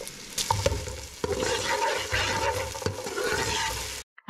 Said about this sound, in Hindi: हमारी प्याज जब तक फ्राई हो रही है